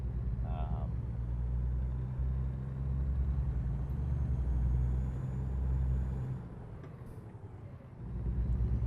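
Kenworth T680 truck with an 18-speed Eaton Fuller transmission in American Truck Simulator, a low steady diesel engine drone whose pitch changes as gears shift, heard under someone talking.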